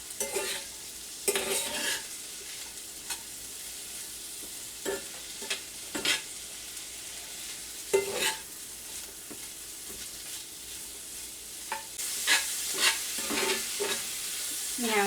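Lean beef sausage sizzles in a pan under a steady frying hiss while a utensil stirs and scrapes it every second or two, up close, with no talking.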